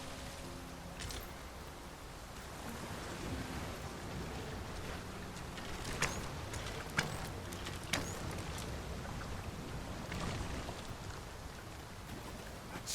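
Heavy rain pours down in the fantasy game Dragon's Dogma 2, making a constant dense hiss with scattered sharp patters and faint low rumbles, steady throughout with no talking.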